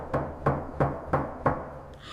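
Five evenly spaced knocks on a door, fairly close, sharp and hollow, each one alone with brief quiet between.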